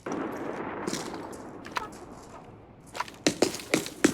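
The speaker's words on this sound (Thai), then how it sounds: "เสียงมันดังยิงกันจังวะ" Gunfire in the Arena Breakout Infinite shooter starts as distant muffled shots and ends with a quick run of loud, sharp cracks.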